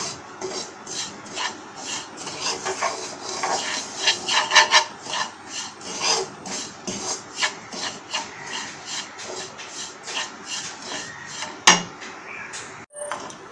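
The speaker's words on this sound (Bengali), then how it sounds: "সুজিটাকে সুন্দর করে ভেজে নেব" Dry semolina being roasted in a pan, stirred steadily so grains rasp and scrape against the metal in a continuous rough texture with faster scratchy strokes, close and fairly loud, with no talk.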